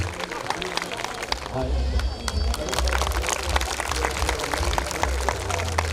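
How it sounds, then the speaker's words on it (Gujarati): Women at a family community get-together in Surat clap together in a dense, sustained round of applause, with a murmur of crowd voices underneath. "મારે કહેવું પણ નથી પડતું અને તાળીઓ પડે છે"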